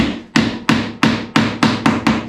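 Seven sharp, evenly spaced strikes of a rubber mallet, each a loud thud with a quick decay, steady rhythm, close by.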